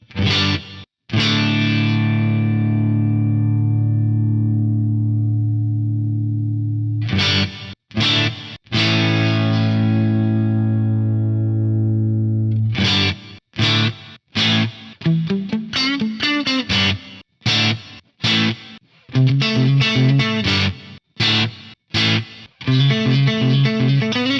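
Guitar through an Axe-Fx III with a gated reverb effect: distorted sustained chords ring out and cut off abruptly, then a run of short, choppy chord stabs and riffs that start and stop sharply, loud and up close.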